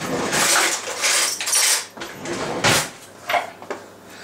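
Kitchen drawer pulled open to fetch a spoon, with clattering cutlery and a sliding rumble, a couple of louder knocks and rattles near the end; close and moderately loud.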